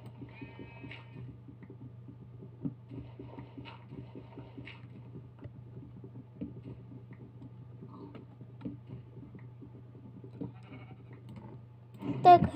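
Sheep bleating in the video game Minecraft, faint and intermittent over a steady low hum, with a louder burst of sound near the end.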